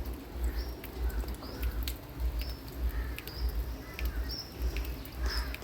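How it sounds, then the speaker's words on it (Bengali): Steady rain falls outdoors as a continuous close hiss and patter, with a few faint bird chirps over it. "দেখো কেমন বৃষ্টি হয়েই যাচ্ছে"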